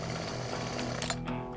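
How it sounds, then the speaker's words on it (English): A chainsaw that keeps shutting off and won't start up sputters and rattles in a steady close mechanical drone, with a few sharper knocks near the end. "the saw isn't working. It keeps shutting off,"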